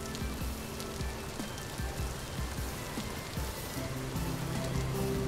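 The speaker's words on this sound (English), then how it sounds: "It's raining!" Rain falling in the video game Vintage Story, a dense steady patter of drops on surfaces filling the whole clip at moderate loudness, with a low tonal hum running underneath.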